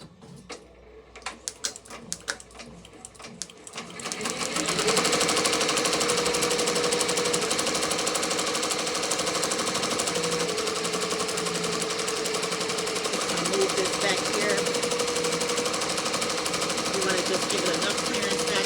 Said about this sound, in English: this is the Ricoma MT1501 embroidery machine